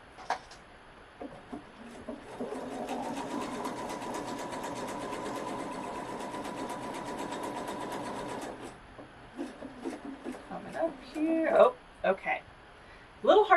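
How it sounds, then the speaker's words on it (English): A Pfaff 710/720 sewing machine runs steadily for several seconds stitching a pair of leaves, a close rapid mechanical whir, then stops; a few clicks and handling noises follow. "I want you to sew exactly 2 leaves, and I'll do my best as well"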